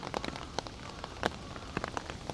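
Rain patters during Japan's rainy season, with irregular close drips and taps striking a surface over a soft, continuous wash of falling water.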